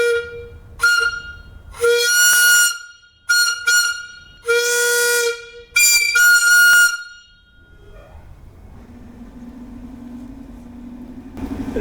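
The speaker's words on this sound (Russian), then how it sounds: "сперва испытаем свисток, работающий на воздухе." A loud, piercing compressed-air whistle sounds in several repeated blasts of varying length, followed by a lower, steady hissing tone.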